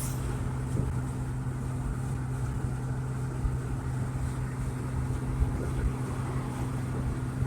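A 2007 Porsche Cayman 2.7 base with a 5-speed gearbox cruising on the road, a steady low engine drone and tyre and wind rumble heard from inside the cabin, continuous and even, with no talking.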